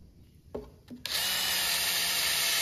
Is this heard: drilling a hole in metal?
yes